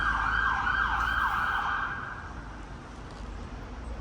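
An ambulance siren wails in a rising-and-falling cycle, loud at first and then quickly fading as it moves away, leaving low road rumble.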